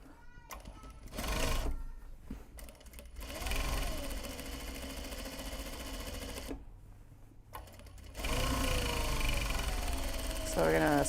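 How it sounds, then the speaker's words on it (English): A sewing machine stitching fabric bag handles together for a knot bag, its motor whirring in steady runs that start and stop, close and fairly loud, with brief quieter gaps between runs of stitching. "Basically, we're sewing the handles together"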